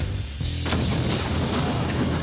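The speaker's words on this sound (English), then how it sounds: "we're going to use black powder Okay. in a cannon to fire a 6-inch nail." A black powder cannon fires a 6-inch nail with a single loud, sharp boom that rolls into a long decaying rumble, heard alone and close.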